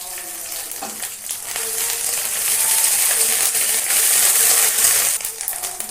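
Garlic and ginger hit hot oil in a pan with a bay leaf, bursting into a bright crackling sizzle that swells and holds loud before easing, with a few light clinks.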